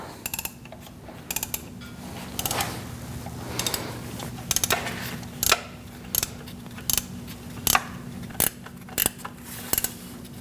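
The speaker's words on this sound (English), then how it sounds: "I'm going to use a ratchet wrench, makes it easier. Remove the bolt." A ratchet wrench with a 15mm socket backing out a bolt on the accessory drive belt tensioner of a 2006-2011 Chevrolet HHR 2.4L L4, giving a run of sharp, evenly spaced clicks over a low steady hum.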